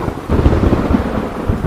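Heavy rain pours in a dense, loud wash, with rolling low thunder rumbling through it and no voices.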